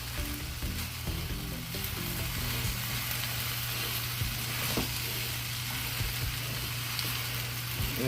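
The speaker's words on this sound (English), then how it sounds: "Those shrimps was popping." Shrimp and rice frying in a hot pan for Chinese-style shrimp fried rice, a steady close sizzle with occasional pops and stirring scrapes throughout, no talk.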